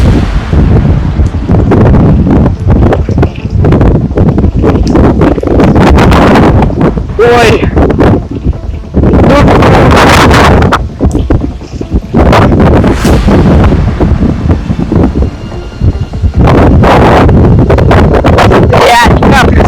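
Strong gusting wind buffets a handheld microphone during a severe thunderstorm, roaring loudly and continuously in broad surges throughout, with someone talking excitedly over it.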